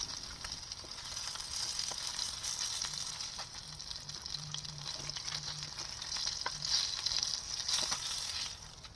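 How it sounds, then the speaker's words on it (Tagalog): Garlic sautéing in a pan for a salmon belly steak dish, a steady close sizzle and crackle with occasional stirring scrapes, continuous throughout with no talking. "magigisa tayo ng bawang"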